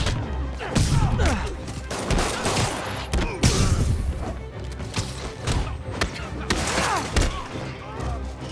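Gunfire and thuds from Marvel's Spider-Man game, repeated sharp bursts and impacts in a busy fight, loud and close, with voices shouting over it.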